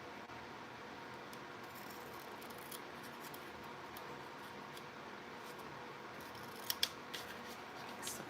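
Scissors snip through paper while shapes are cut out around metal dies, faint, quiet cuts with a few sharper clicks near the end, no talking.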